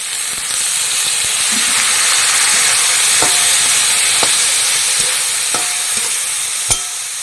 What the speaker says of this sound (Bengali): পেস্টটা ভাজা ভাজা হয়ে গেছে এবার দিয়ে দেবো এই আলু আর এই হলুদ আছে এর ভেতরে এখানে টমেটো আছে এখানে কাঁচা লঙ্কা আছে সব একসঙ্গে ছেড়ে দেবো